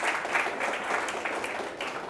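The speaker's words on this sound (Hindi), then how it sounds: "जोरदार ताली बजा के" A church congregation applauds loudly at the close of a sermon, dense steady clapping filling the space for a couple of seconds with no voice over it.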